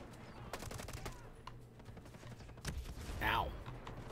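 Sniper rifle shots and other gunfire crack out in Ghost Recon Breakpoint, a handful of sharp, separate reports at close range. Someone talks in between the shots.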